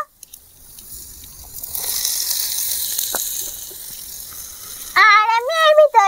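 Spiced potatoes sizzle in a pan as lightly parboiled peas go in, a rising hiss of frying that holds steady, ending with a few sharp, squealing scrapes near the close.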